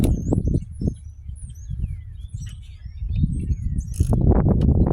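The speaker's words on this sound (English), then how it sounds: "So we got to get that bolt loose now." A hand ratchet fitted with a half-inch socket works an alternator mounting bolt loose, giving close clicking and mechanical rasping in bursts, with faint birdsong chirping in the background.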